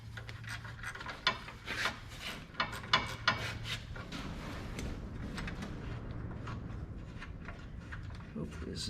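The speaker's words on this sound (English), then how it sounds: "1/4 inch ratchet" A 1/4 inch ratchet turns a bolt while a Yanmar engine is readied for winter, producing soft scraping and clicking strokes in short bursts, with a few sharper knocks, under a low steady background.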